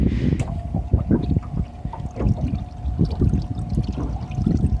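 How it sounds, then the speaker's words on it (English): Aerator recirculation pump on a 2020 Bass Tracker boat pushing water, a close, steady pouring and gurgling flow with a faint motor whine running underneath. "Now we'll go ahead and run the aerator system, or the recirc system"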